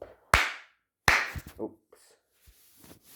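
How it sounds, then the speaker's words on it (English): Two sharp hand claps aimed at a sound detector module, close and loud with a gap between them, followed by faint handling noises and a few soft taps. "And then I'm gonna clap."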